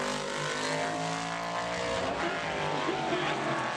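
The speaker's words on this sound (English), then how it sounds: "here comes the number 10 car out of Tobaccoville, North Carolina" Modified race car at Bowman Gray Stadium during qualifying, its engine a steady loud harmonic drone with a layered low growl, holding a constant pitch as it runs a lap nearby.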